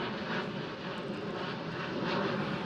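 A KLM Cityhopper Embraer E175 jet at Schiphol gives off a brief, steady, faint roar of jet engines with an even broadband hiss.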